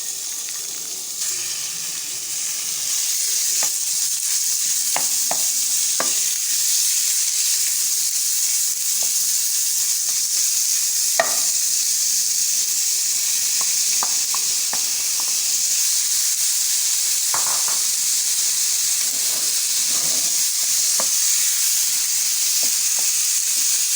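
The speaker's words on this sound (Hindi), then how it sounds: "चिकन को आपने भूनना है जब तक इसका कीमे का कलर चेंज ना हो जाए।" Chicken mince sizzles steadily in a hot pan with garlic, a continuous bright frying hiss with occasional clinks and scrapes as it is stirred, close and fairly loud, no talking.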